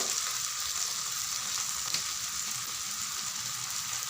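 Coriander and cumin powder fry in oil for an egg curry, giving a continuous bright sizzling hiss, steady and close, with no one speaking.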